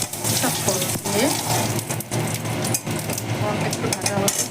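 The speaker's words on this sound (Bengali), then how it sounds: "এবার কড়াতে জিরে, লঙ্কা, তেজপাতা সব ফোড়ন দিয়ে" Cumin, dried chili and bay leaf crackle and sizzle in hot oil in a wok, a busy continuous frying hiss with intermittent sharper pops, close and fairly loud.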